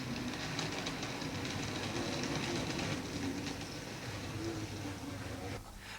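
A model railway train on a Bluebell line branch layout runs with a steady rolling rumble and faint rhythmic clicking of wheels over track joints, fairly quiet and continuous throughout.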